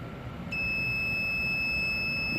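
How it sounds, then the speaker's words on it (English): A wireless amplifier remote emits its pairing beep, a steady high electronic tone that starts abruptly and holds for about two seconds, with no voices. "that's your pairing beep to program your remote"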